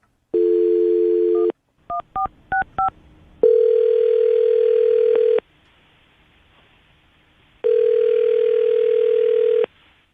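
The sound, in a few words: telephone dial tone while dialing a phone number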